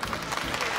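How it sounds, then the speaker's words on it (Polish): Studio audience clapping at a Polish music chart show, a dense short burst of applause with crowd noise. "Wielkie oklaski."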